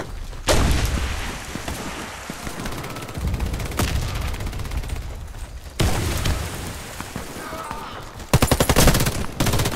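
Grenade blast amid video game gunfire in a weedy battlefield: dense, loud rattling shots and heavy thumps keep coming in bursts, with a sharp rapid volley near the end.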